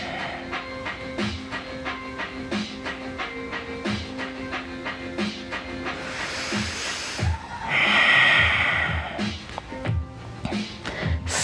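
A person draws a deep breath in and lets it out slowly while lying in a yoga stretch with a stick, one long, soft airy rush rising over steady tonal background music, close and fairly quiet.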